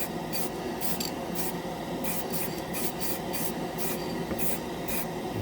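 Titans Hobby primer sprays from a can onto a white corrugated plastic sheet in a series of short, close, hissing bursts with a steady rhythm and brief pauses between them.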